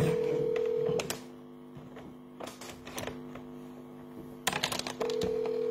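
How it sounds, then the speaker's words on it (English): Ringback tone of an outgoing telephone call: a steady, mid-pitched electronic tone sounds for about a second, pauses, then returns near the end, over faint mains hum and some room noise. "It's ringing."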